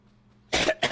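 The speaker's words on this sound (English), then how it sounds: "Well, I'm sorry I had to cough." Two quick, loud coughs close to the microphone break a quiet stretch of low background hum during a PUBG gaming stream; the second cough is shorter than the first.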